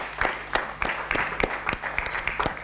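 A small group of children claps briefly at a children's municipal council assembly, uneven individual claps close by, lasting a few seconds.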